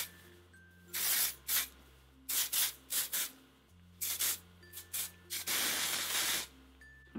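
Short bursts of hair texture spray hiss repeatedly, close up, in quick uneven pulses with a couple of longer sustained sprays.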